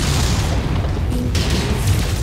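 Battlefield game missile impact, a deep rumbling boom that fills the clip with low, rolling energy and a brief crackle partway through.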